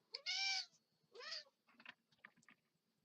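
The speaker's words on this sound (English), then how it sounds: "Hi, cat." Pet cat named Echo meowing nearby, a long drawn-out meow followed by a shorter one, then soft chirping murmurs against a quiet room.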